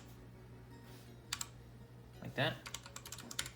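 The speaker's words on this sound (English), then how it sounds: "So when you're just typing, that's a little cooler." Keys tapped on a HyperX keyboard fitted with new keycaps, a few sparse clicks and then a quicker run of keystrokes, heard close under a steady low hum with a brief spoken remark in the middle.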